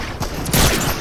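Gunfire in a video game: a short cluster of sharp, loud shots fired close up, over about a second of noisy battle ambience.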